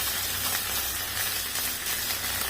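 Boroli fish fry in hot oil with a steady, even sizzle and hiss, close and continuous with no talking over it.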